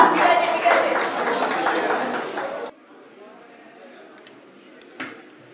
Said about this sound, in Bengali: সঞ্জয় সরকারের জন্য জোরদার হাততালি হয়ে যান।